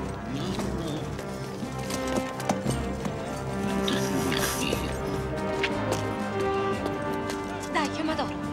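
Rhythmic clip-clop of horse hooves runs steadily throughout, mixed with voices talking and background music.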